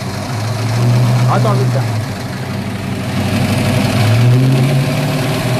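A CCM motorcycle engine with its rocker covers open, idling steadily and then revving briefly, heard up close under a man's speech.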